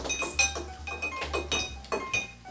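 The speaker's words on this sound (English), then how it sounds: "And then he'll stir it just a bit." Bar spoon clinking and swirling inside a mixing glass while a Rob Roy cocktail is stirred, a steady run of bright glassy chinks and rattles, close and continuous.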